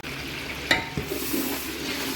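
Masala spice powder frying in oil in a pot for Malaysian Tamil-style fried chicken dum biryani, a steady soft sizzle with a stir or scrape of the spoon near the start.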